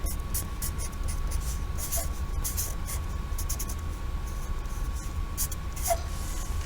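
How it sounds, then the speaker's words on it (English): A pen or marker draws a large letter S on paper in short, close scratchy strokes separated by brief pauses, over a faint steady hum. "So I may go ahead and put my big S here, and we'll pretend that I'm writing in big letters"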